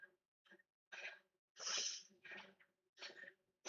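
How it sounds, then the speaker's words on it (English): Several sharp sneezes break out one after another from a cyclist mid-way through a VO2max interval session on an indoor bike, with quick breaths between them, close and fairly loud in an otherwise quiet room. "Sorry, I'm still sneezing a lot."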